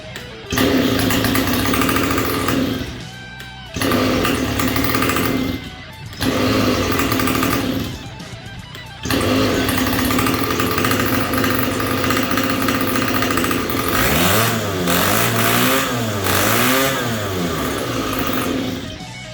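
A small home-built boat motor drones steadily and loudly, cutting out briefly a few times before restarting, with its pitch wavering up and down near the end.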